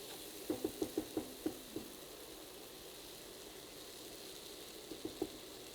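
A chili base cooks in a pan, a low steady sizzle broken by a quick run of spoon taps and scrapes early on, then a few more knocks near the end, close and fairly quiet.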